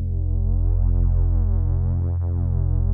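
Square-wave synth bass from a Source Audio C4 Synth pedal, its tone pulsing with a subtle eighth-note tremolo, sustained steadily and loud for about three seconds before cutting off.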